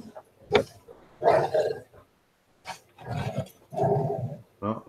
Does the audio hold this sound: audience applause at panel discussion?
no